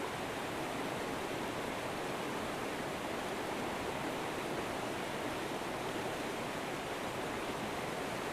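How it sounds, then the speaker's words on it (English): A river current flows in a steady, broadband rush, even and unbroken throughout, soft and constant, with no voices or other sounds. "to the sounds of the currents from the river flowing"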